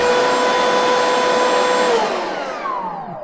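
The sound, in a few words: Bosch 12V cordless vacuum cleaner running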